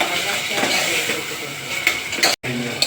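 Potatoes frying in a pan for fasting bhagar, with a steady sizzling hiss throughout, broken by light clinks of a utensil against the pan and a brief cut near the end; a voice speaks over the cooking.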